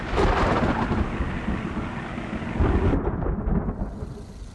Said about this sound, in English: they run into severe thunderstorms.